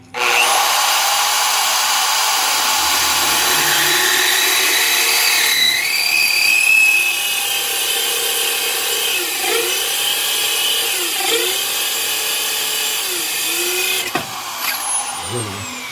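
A loud electric drill whines steadily as it bores through a ceramic tile, its pitch dipping briefly several times under load before it cuts off near the end.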